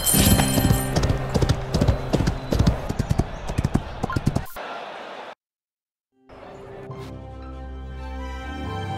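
Racehorses galloping in the Rival Stars Horse Racing steeplechase video game: dense, rapid hoofbeats with a whinny over racing noise, a brief full dropout, then quieter hoof clatter returning under music and a voice.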